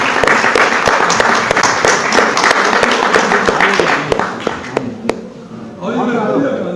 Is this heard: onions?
no